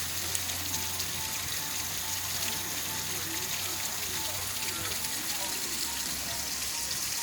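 Heavy rain pours steadily outdoors near woods, a constant broadband hiss of drops on surfaces that holds at an even level with no talk over it.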